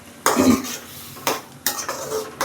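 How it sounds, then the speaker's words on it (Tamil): Curry leaves dropped into a pan of frying onion for onion thokku, heard as three short clattering bursts of pan and utensil contact over a faint sizzle. "மதிய கருவேப்பிலை போட மறந்துட்டேன் அதான் இப்போ போடுறேன்"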